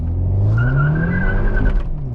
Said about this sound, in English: lots of tire spin